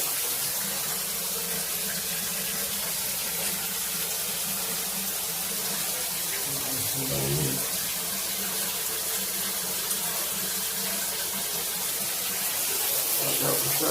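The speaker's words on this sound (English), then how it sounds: "We got the water running in both of them." Water pours steadily into a tub, a constant hissing gush that continues unbroken for the whole stretch, with faint voices beneath.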